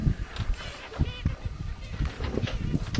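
Small seabirds give thin, toy-like squeaking cries near a boat crossing the Pacific, the calls short and intermittent over steady wind and water noise.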